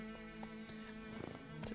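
Roach, Geralt's horse in the video game The Witcher 3, clip-clops along at a steady gait over a droning game soundscape, hoofbeats close and distinct.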